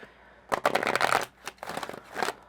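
Eternal Crystals oracle cards being shuffled by hand in several quick riffling bursts, close and clear, with short pauses between them.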